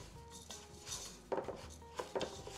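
Utensil scraping and clinking against a rice cooker pot as minced garlic and finely chopped spring onions are mixed in, a few close, uneven stirring strokes with faint background hum.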